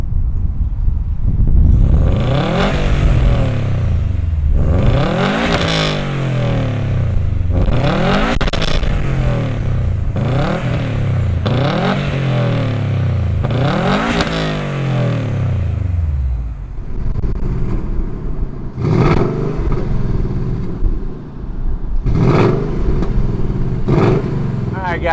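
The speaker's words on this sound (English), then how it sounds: "let's fire up these two performance cars and see what they sound like" Engines of a 2020 Ford Mustang GT and a 2018 Subaru WRX STI start and rev repeatedly, loud rising and falling roars in a series of throttle blips, followed by a lower idle with a few sharp revs.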